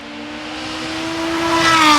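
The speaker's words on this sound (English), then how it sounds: "they built this exhaust specifically for him, making it sound like an evil force, like an F1 car possessed by the devil." Supercharged BMW M5 fitted with a custom-built exhaust revs up, a loud, steady engine tone climbing in pitch and volume over about two seconds, close by with no talking.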